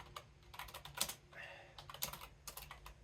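Rapid clattering keystrokes on a computer keyboard mounted on a Yikola keyboard stand during a typing test, irregular bursts of close, crisp clicks with brief pauses, and a voice faintly present underneath.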